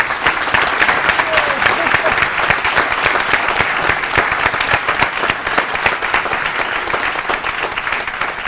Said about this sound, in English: Could you please all stand and give a warm round of applause to Norma Peterson.